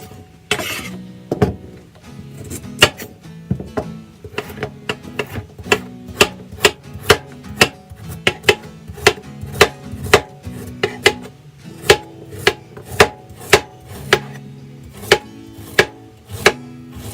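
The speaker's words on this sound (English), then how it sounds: "Chop off the ends." Sharp, regular knife chops on a cutting board as the ends are cut off carrots, a steady series of close, loud strikes, several with a slight clink, with no talking.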